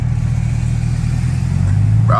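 Chevrolet Camaro ZL1 V8 rumbling loud and close at night, a steady deep idle that swells into a brief rev near the end.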